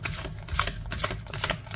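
A deck of tarot cards is shuffled by hand, a close, fast, papery riffle of flicking cards that repeats in short bursts and does not stop, with no talking.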